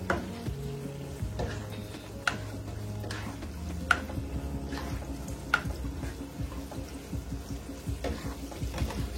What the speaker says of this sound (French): je suis en train de frire mes oignons, je les rends translucides